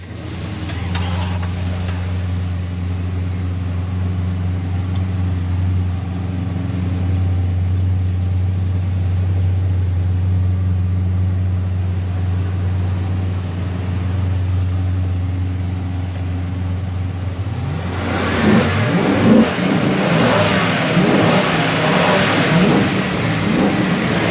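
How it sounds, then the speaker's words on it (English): Mopar cars idle with a steady, low, droning engine hum for most of the stretch, then one engine revs up hard in several rising, roaring bursts near the end. "let's get to hearing all your cars run"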